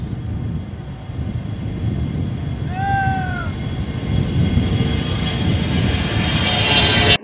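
A presidential airplane takes off from Hassan Djamous International Airport, bound for Nairobi. Its engines give a loud, steady roar that swells toward the end, and a faint high whine sweeps briefly through the middle.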